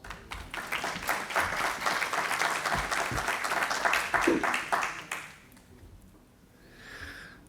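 A conference audience applauds to welcome panelists at a side event on religious freedom in Ukraine, with steady, full clapping for about five seconds that then thins and fades out.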